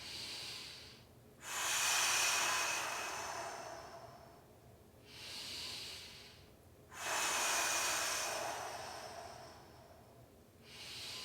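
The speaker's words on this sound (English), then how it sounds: "3 breaths" Three long, heavy breaths during exercise, each a loud broadband rush of air separated by short pauses, close and alone with no talking.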